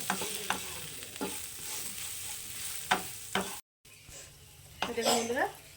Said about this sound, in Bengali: এখন এটাকে ভেজে নেব যত সময় ওই লেটলেটে ভাতটা চলে না যাবে তত সময় এটাকে ভেজে নেব